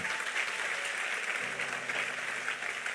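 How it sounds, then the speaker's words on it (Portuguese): A church congregation applauds during a sermon, a steady wash of clapping heard at a distance, fairly faint, with a low hum entering partway through. "pode aplaudir a Ele, que Ele é muito bom"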